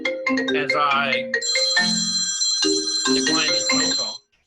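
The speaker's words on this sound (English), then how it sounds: "declined his phone call" Phone ringtone playing a melodic electronic tune, loud and close, with repeating chime-like phrases for about four seconds before it cuts off abruptly, heard in a painting and mixed media class.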